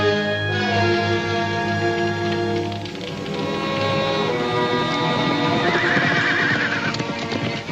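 Horses neigh and whinny loudly and close by, with hooves clip-clopping beneath, no voices.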